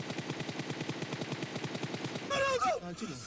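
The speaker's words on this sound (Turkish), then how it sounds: "susturucuyla sıkıyor bir de ya" Rapid suppressed gunfire rattles from a weapon in the mobile battle royale game PUBG Mobile, a steady burst of muffled shots lasting about two seconds, followed by brief in-game effects and a short voice.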